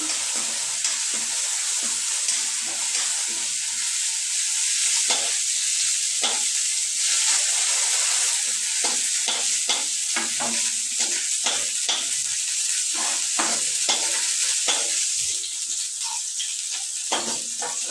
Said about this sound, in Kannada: ಇದನ್ನು ಫ್ರೈ ಮಾಡ್ತೀನಿ.